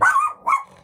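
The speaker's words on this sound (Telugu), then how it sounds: "నేను రాగానే కుక్క అయితే అరుస్తుంది" Two quick dog barks in succession, close and fairly loud, with no talking.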